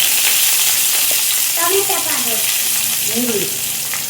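Onion, cumin and spices sizzle steadily in hot oil for Mangalore-style chicken sukka, a constant bright frying hiss close-up, with someone talking briefly over it.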